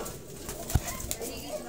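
Soft pigeon cooing with a faint flutter, set against low background murmur and a single sharp click.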